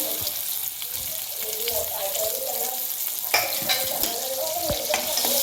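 Small chopped onions frying in hot oil with cumin for a garlic-fenugreek vegetable dish, a steady close sizzle with clatters of stirring and a louder burst partway through.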